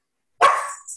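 Dogs barking outdoors, a short burst of barking that starts abruptly partway through, fairly close and alone with no talk.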